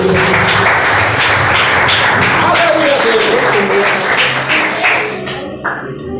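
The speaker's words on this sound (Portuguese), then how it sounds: "Recebe o servo do Senhor, aplaude" A church congregation applauds loudly and continuously as a preacher is welcomed, with voices and a tonal sound rising over the clapping before it thins out near the end.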